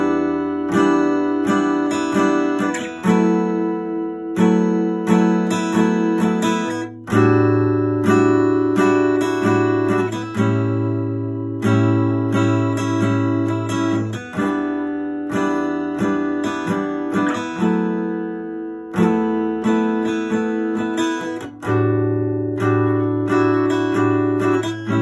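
Acoustic guitar strummed in a steady down-up pattern, playing the chord progression of a song, full and close with brief pauses between chord changes, no talking.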